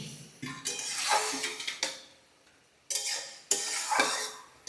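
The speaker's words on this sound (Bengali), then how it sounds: "একটা ঢাকনা দিয়ে এটাকে আমি এবার ঢেকে দিলাম।" A lid goes onto a cooking pot of tamarind and sweet potato chutney with fried cashews and raisins, giving several sharp metallic clanks and rattles spread over a few seconds, fairly close and separated by quiet gaps.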